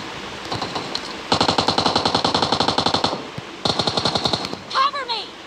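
Rapid automatic gunfire sprays in a shooter video game, two long close bursts of evenly spaced shots with a short gap between them, followed by a brief electronic game sound.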